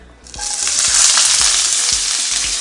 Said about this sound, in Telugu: ఆనియన్ సన్నగా తరుక్కోవాలి కొంచెం వేగనిద్దాం బ్రౌన్ వచ్చేదాకా